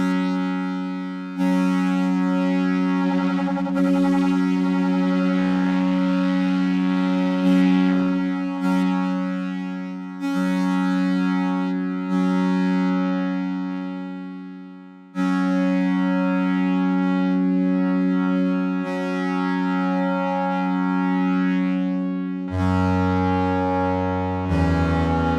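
Korg Prologue synthesizer playing sustained, harmonically rich chords and notes with a fast modulation rate, changing in clear steps and loud throughout with brief gaps between phrases.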